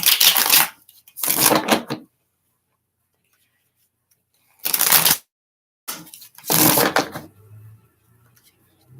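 Tarot cards get shuffled in short, crisp bursts of riffling and shuffling at close range, broken up by silent pauses.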